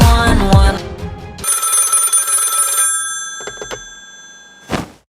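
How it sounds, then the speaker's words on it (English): A telephone bell rings sharply in one long, bright burst after a clattering jumble. A few thin clicks and a final thunk come after it. "Pick up the phone."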